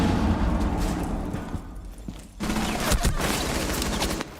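Rapid bursts of gunfire from a shooter video game, loud and dense throughout, with a brief lull midway before the shooting picks up again.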